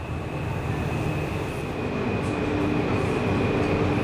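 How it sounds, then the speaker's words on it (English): Taipei metro train running on the red line toward Danshui, a steady close rumble of wheels and motors with a sustained whine, rising slightly in loudness, no talking. "Pretty scenic way of taking the subway"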